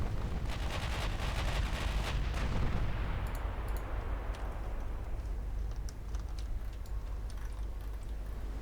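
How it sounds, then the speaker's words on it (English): Battleship 8-inch secondary guns firing in a naval warfare game, a rumbling series of deep booms that roll into a long fading boom, with scattered sharper reports afterward. "We got 8-inch secondaries on these battleships"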